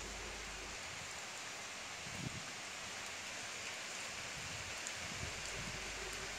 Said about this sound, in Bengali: তো দেখতেই পাচ্ছেন কিভাবে বৃষ্টি হচ্ছে আমাদের এদিকে